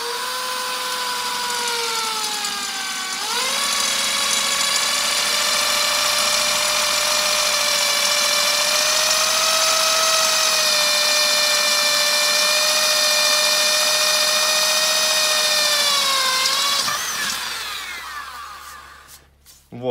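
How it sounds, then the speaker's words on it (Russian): A power drill fitted with a 5 mm bit bores a small hole into an empty gas cylinder. The steady, loud whine holds for about fifteen seconds, its pitch dipping as the bit bites into the metal, then spins down at the end. "Сейчас просто сверлим сверло."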